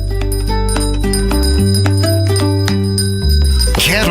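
Loud, steady jingling of a Salvation Army bell ringer's bell, part of a chiming musical ad jingle with sustained tones, ending in a swooshing sound effect.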